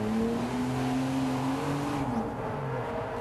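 Rear-wheel drive car with a bit of power drifting, its engine droning loud and steady with a rising then falling pitch as it slides, a faint tire hiss underneath.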